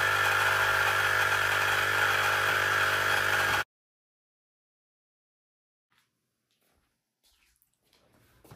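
An electric bike tire pump inflating a tire to 80 PSI, a loud steady motorized whir and buzz that runs for about three and a half seconds and stops abruptly, followed by near silence with faint rustles.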